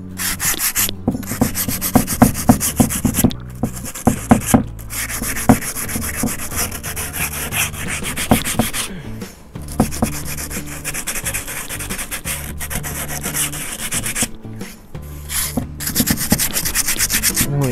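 Steady rasping strokes of sandpaper rub back and forth across a hard cement flowerpot mold, rhythmic and close, with a few brief pauses between passes.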